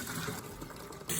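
Cold water streams from a tap onto drained blanched spinach, a short steady gush of pouring liquid at moderate level with no voices.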